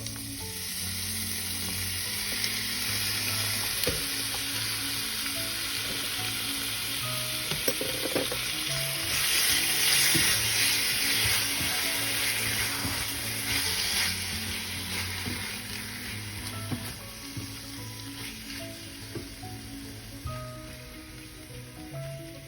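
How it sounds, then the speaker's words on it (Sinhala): Onion, garlic, chili and chicken frying in a pan, a loud steady sizzle with occasional stirring scrapes and spatters throughout, no voices. "ලුණු සුදුලුණු අමිරිස් වල ටික බැදෙනකොට"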